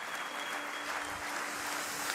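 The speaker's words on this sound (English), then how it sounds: "a huge round of applause for our 2021 Formula 1 World Champion, Max Verstappen." A large audience at the 2021 Formula 1 World Champion prize giving ceremony in Paris applauds, a dense, steady wash of clapping heard at a distance and fairly faint.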